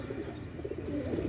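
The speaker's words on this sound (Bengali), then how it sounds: "এটা হচ্ছে পাকিস্তানি গোল্ডেন কবুতর।" Pakistani golden pigeons coo in soft, repeated low throaty rolls close by, over a faint steady background hum.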